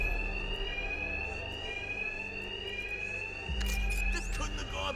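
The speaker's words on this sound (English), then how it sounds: "Two-Face's thugs won't hear me over the alarm." A continuous electronic alarm rings steadily through a Batman video game mission against Two-Face's thugs, a sustained bright tone layered over low rumble, with a sudden louder thump and sweep of action sounds near the end.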